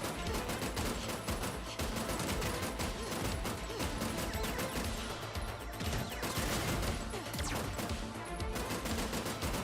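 Gunfire in a video game pours out as a steady, fast barrage of shots, dense and continuous throughout with no pauses and no voices.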